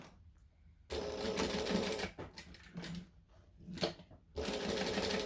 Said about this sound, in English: So I'm just going to stitch them in place.